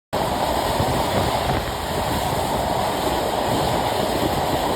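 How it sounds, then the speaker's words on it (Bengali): The Sundarban Express runs through Padma rail station in Shariatpur at night, heard from on board as a loud, unbroken, even rumble of wheels and carriage with no voices. "আমাদের সুন্দরবন এক্সপ্রেস ট্রেন এখন থ্রু পাস করে যাচ্ছে শরীয়তপুর জেলার পদ্মা রেল স্টেশন"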